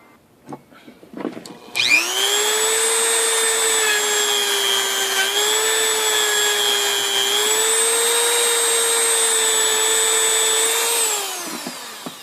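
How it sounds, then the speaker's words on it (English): A big Dremel rotary tool grinds a screw out of a silver quarter being made into a ring, giving a loud, steady high-pitched whine that starts, holds for about nine seconds with slight pitch shifts, then winds down. "So I'm gonna get the big Dremel out and grind out this screw."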